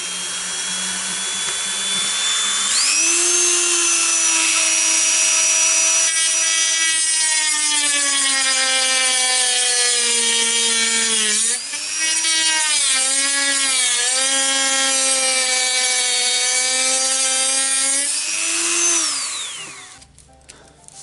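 A Dremel rotary tool cuts through plastic enclosure material for a tarantula or mantis habitat, a loud, steady high-pitched whine that runs nearly twenty seconds, dipping briefly in pitch as the bit bites, then winding down at the end.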